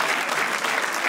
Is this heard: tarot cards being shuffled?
no